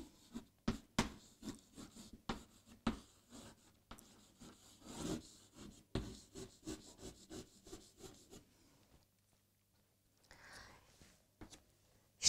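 A pen scratches out words by hand in a notebook, in short repeated strokes with brief pauses, close and fairly quiet, fading near the end.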